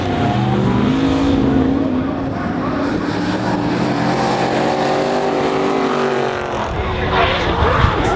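Nissan S15 drift cars competing at a D1NZ drifting championship round at Hampton Downs, engines roaring and rising and falling in pitch through slides, loud and continuous with a sharp burst near the end.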